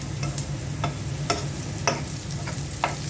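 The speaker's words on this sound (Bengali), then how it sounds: "এক পাশে পেঁয়াজ ভেজে নিচ্ছি আরেক পাশে মিষ্টি কুমড়া" Onion on one side and pumpkin on the other frying together in a pan, a steady dense sizzle broken by a few sharp scraping clicks of stirring.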